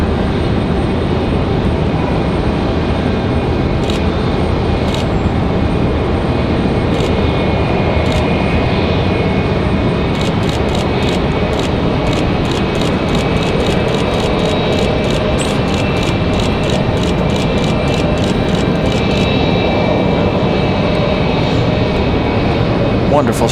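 Jet airliners at Raleigh-Durham International Airport, including a Southwest arrival from Denver, give a loud, continuous broadband engine roar that holds steady throughout, with a voice talking underneath.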